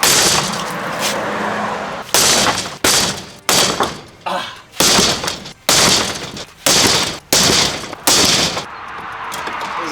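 A commercial building's door is banged repeatedly in an attempt to break it open: about eight loud, sharp, rattling impacts at roughly even intervals, close up, each ringing briefly with a metallic, glassy clatter.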